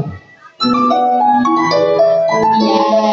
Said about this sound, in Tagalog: Ito naman po ang tunog ng Nokia.